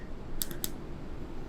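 Two or three quick keystrokes click on a computer keyboard as letters are typed one at a time, crisp and close over a faint room hiss.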